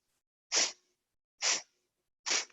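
Three sharp, forceful nasal exhales from kapalbhati breathing during a moderate vinyasa yoga practice, evenly spaced about a second apart, close and clear against silence.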